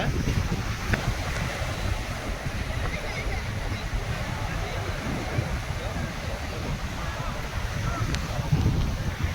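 Sea waves washing onto Puducherry beach, a steady broad surf roar mixed with wind rumble across the mic, with a voice talking over it.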